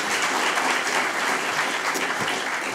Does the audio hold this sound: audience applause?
yes